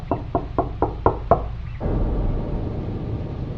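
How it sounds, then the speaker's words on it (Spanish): Six sharp, evenly spaced knocks on a door ring out close and loud, followed by a low, steady rumbling ambience. "Me pareció haber escuchado unos golpes en la puerta."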